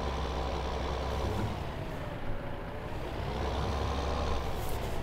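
A Farming Simulator 2015 tractor engine rumbles at a steady, close, heavy level throughout, with the same low drone holding without a break and no voices over it.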